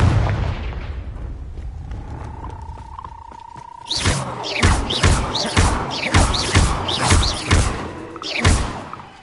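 A rising whoosh gives way to a rapid run of heavy thumping explosions from the Confringo spell in a Hogwarts game, about eight loud booms in quick rhythm.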